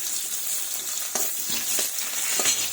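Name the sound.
chopped onion added to hot tempered oil in a kadai, sizzling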